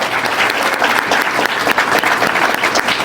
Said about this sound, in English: how about one more round of applause for our 7 students here?